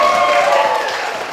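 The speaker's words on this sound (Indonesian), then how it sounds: "kalau semangat kita tepuk tangan untuk dagelan Mataram" An audience at a Dagelan Mataram traditional comedy session applauds, giving a dense, steady wash of clapping that slowly fades, with a voice heard faintly over it.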